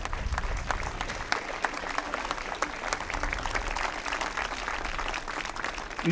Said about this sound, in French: Oui, on peut l'applaudir très fort.